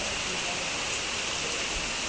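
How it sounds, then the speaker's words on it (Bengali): Dense, loud wash of heavy rain in a storm, a continuous roaring hiss with no breaks. "মারাত্মক বৃষ্টি, ঝড়।"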